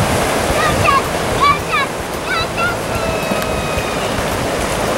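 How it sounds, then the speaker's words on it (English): A canoe runs over a small waterfall in the Boundary Waters wilderness; steady rushing, churning water fills the scene, with bright bird chirps early on and faint voices. "Who needs to portage when you can go over the waterfall?"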